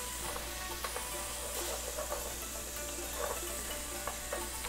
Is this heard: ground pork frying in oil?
yes